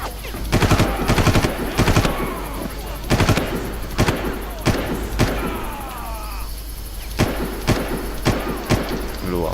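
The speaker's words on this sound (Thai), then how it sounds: "กระสุนมาจากไหน" Gunfire in a Far Cry video game jungle fight: repeated loud automatic bursts and single shots, some clustered, others spaced apart, over a steady engine-like hum, with speech in between.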